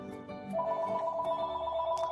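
A telephone rings with a steady electronic warble that starts about half a second in and continues unbroken, fairly clear and alone without voices.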